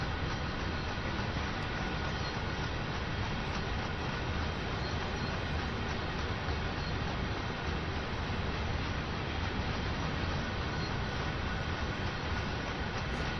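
A DB G6 diesel locomotive in Train Sim World 2 rolls onto a siding, a steady loud rumble of engine and rolling wheels that holds evenly throughout with no talk.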